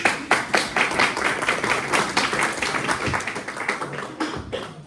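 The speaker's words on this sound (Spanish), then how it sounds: "Aplausos para el Señor." Church congregation clapping loudly and steadily together in a dense, continuous round of applause that carries through the whole stretch with no voices rising above it.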